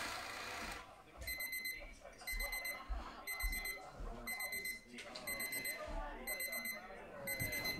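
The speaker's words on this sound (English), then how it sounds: "1981 ET Nelsonic alarm clock." A 1981 Nelsonic E.T. alarm clock rings in repeated electronic beeping bursts, about seven pulses, over a busy background of muffled clatter and low noise.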